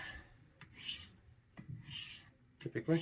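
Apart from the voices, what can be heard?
straight razor being honed on a stone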